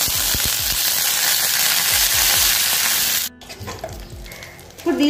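Garlic and curry leaves sizzling in hot oil, a loud, steady close frying hiss that cuts off abruptly, leaving quieter clinks and rustling.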